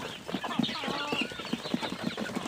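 Backyard free-range chickens, roughly thirty to forty birds, clucking in a steady pulsing rhythm close by on a fresh morning after overnight rain, with a few fluttering sounds.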